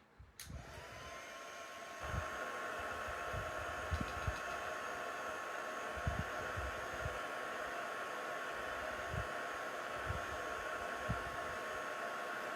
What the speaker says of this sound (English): Okay, then we'll dry it again.